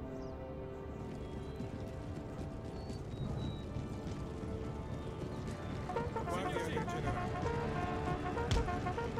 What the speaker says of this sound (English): Push my light horse forwards.